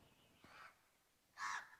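An angry crow caws from overhead in two harsh, separate bursts, the second louder and closer-sounding, over quiet outdoor background.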